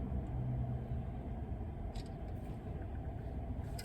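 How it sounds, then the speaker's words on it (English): A Tesla Cybertruck is underway, giving a low, steady road rumble with little engine tone, heard from inside the cabin at a soft level, with a few faint clicks. "I'm in a Cybertruck, man. I'm driving."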